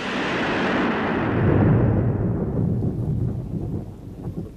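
A thunderstorm with a long, loud roll of thunder rumbling up close and fading away over a few seconds, with rain in the background.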